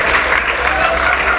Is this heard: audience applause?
yes